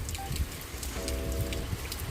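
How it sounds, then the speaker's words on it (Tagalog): Heavy rain pours steadily on a campsite, a dense even hiss of drops drumming on surfaces close by, with no voices over it. "Yan no, lakas ng ulan."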